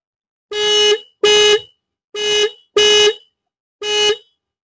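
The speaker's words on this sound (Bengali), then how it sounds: "এবার বন্ধুরা তোমাদের হর্নের আওয়াজটা একটু শুনিয়ে দিচ্ছি।" A Bajaj Pulsar 125 motorcycle horn sounds five times in short bursts, each a loud, close, steady electric tone under a second long, separated by brief silences.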